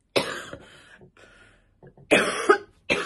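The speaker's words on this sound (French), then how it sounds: "je vais couper parce que sur les moments où je tousse" Several harsh coughs come in short bursts separated by quiet gaps, close and loud, with a couple of throaty coughs near the end.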